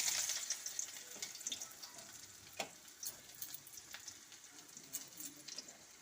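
Onions frying in hot oil in a home kitchen, a steady quiet crackling sizzle with sharp pops scattered throughout and faint clinks, no one speaking.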